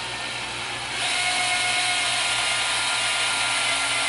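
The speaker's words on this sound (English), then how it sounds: "you take your drill, you just drive it down the middle of that butter" An electric drill mixing butter and sugar for cookies whirs steadily and loudly, its pitch and intensity jumping up after a second and holding a strained, constant buzz.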